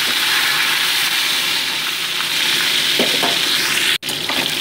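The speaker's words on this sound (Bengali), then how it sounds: "মাছগুলোকে উল্টে পাল্টে আমি ভেজে নিচ্ছি।" Tilapia fish fry in hot mustard oil in a pan, a loud, constant sizzle with a few scraping sounds as the pieces are turned, and no voices.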